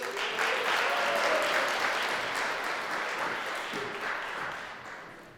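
An event audience gives Mr. Dolan a steady round of applause, the dense clapping swelling early and then slowly fading toward the end.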